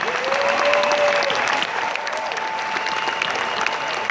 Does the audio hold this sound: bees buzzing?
no